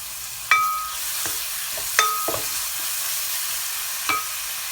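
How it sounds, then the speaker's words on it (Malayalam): Onions sauté in hot oil in a pan, giving a soft, even sizzle with a few sharp metallic taps and scrapes of a spatula spaced out across the few seconds. "നമുക്ക് ആദ്യം ചെയ്യേണ്ടത് സവാള വഴറ്റിയെടുക്കാം"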